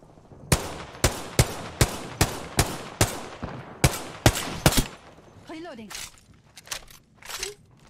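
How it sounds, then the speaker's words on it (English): Gunfire in the video game Apex Legends: a rapid run of about ten loud, sharp shots at an even pace, then a pause with a faint swooping effect and a few more scattered bursts. "The enemies are shooting at me"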